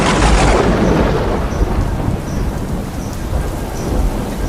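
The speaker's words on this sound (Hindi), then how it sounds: "साथ साथ आसपास कहीं पे बहुत ज़ोर से बिजली गिरा।" A heavy thunderstorm sound effect opens with a loud, close thunderclap, then deep rumbling rolls on beneath a dense, constant roar of pouring rain.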